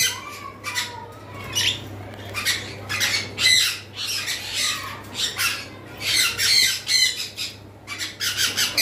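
Green Fischer's lovebirds squawk in sharp, shrill bursts, repeated close by in irregular clusters over a low steady hum, with no voices present.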